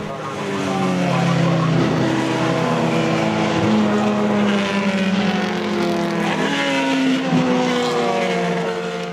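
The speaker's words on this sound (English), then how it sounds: "We're on the pit wall now as the cars come by," Vintage race cars roar past a pit wall at Summit Point in West Virginia during an SVRA event, engine notes rising and falling loudly and continuously, with faint voices in the background.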